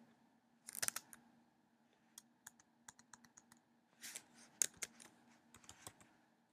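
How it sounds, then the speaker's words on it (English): Typing on a computer keyboard while writing iPhone code, with quiet scattered clicks in short bursts and isolated single keystrokes, close by and soft, with no talk. "I'm going to type import"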